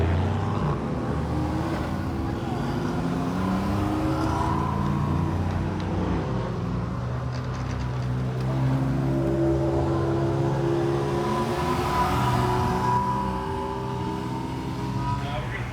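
Porsche race car driving on track at VIR in hot conditions, a continuous loud engine drone heard from inside the car, with pitch rising and falling through gear changes.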